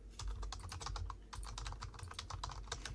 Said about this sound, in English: I'm typing to BMG right now